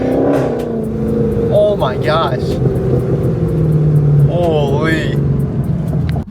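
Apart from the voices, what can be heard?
Dodge Scat Pack car engine revving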